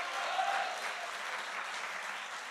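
Audience at a French lycée prize ceremony applauds, a dense, even wash of many hands clapping at moderate distance, steady throughout and fading slightly toward the end.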